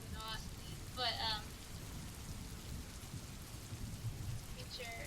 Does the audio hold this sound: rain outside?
yes